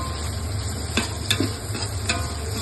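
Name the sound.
onions and green chillies sautéing as they are stirred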